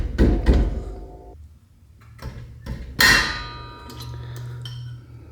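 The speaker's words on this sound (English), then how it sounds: "Once you loosen this slider, you'll be able to rotate that half of the brake. So we'll take our 10mm wrench." A 10mm wrench works the brake caliper slider bolt on a Mazda Miata, giving a few sharp, close metallic knocks and clanks separated by quiet pauses, then a bright ringing clatter and a low background hum.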